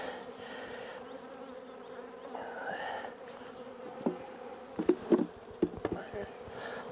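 Honeybees buzz around mini mating nucs being filled with bees, a close, continuous drone with a few louder passes of individual bees near the end.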